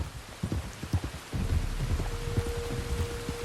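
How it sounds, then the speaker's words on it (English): Rain patters steadily in Red Dead Redemption 2, with scattered heavier drops and a low rumble joining as the downpour thickens, a faint tone lingering beneath. "You were right about the damn rain."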